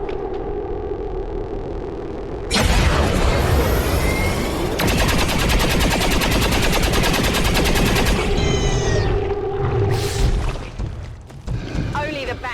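Reaction fire in XCOM 2: loud bursts of rapid gunfire with a dense machine-gun rattle lasting several seconds, then a few trailing shots and booms amid game sounds.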